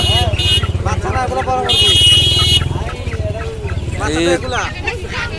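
Chickens cluck and a rooster calls at a traditional hill-area duck and poultry market in Manikchhari, with several nearby bird calls over busy crowd chatter and passing motor traffic. People talk throughout.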